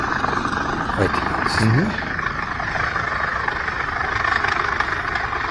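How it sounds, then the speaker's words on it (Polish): Two large helicopters landing near a remote village, heard as a steady distant engine and rotor drone under someone speaking. "takie 2 ogromne helikoptery tutaj sobie lądowały. Patrzcie, jak lądują."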